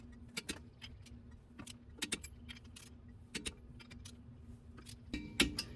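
Sharp metallic clicks in small clusters from a torque wrench tightening wheel nuts in a star pattern on a GR86, spaced irregularly over faint background hum, close by and fairly quiet.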